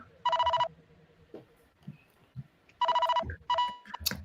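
A telephone bell rings in two distinct bursts of rapid trilling, loud and close, separated by low background murmur and brief indistinct noises, with a third shorter ring at the end.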